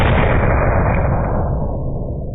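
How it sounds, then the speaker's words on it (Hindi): A big cannon fires with a heavy, loud blast whose rumbling tail fades and dulls over about two seconds. "फिर एक बड़ी तोप दागे जाने की आवाज सुनाई दी।"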